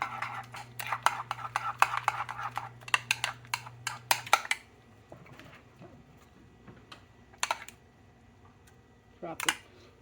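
Mayonnaise is stirred into a bowl of crab mixture, with quick, irregular scraping and tapping clicks of a utensil against the bowl, busy for several seconds and then thinning to a few sparse taps; no talking.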